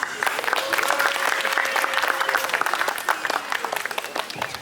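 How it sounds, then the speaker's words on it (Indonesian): An audience at a poetry and theatre performance applauds in a dense, steady wash of clapping that holds at an even level from start to finish, close and fairly loud, with no voices over it. "Tepuk tangan dulu."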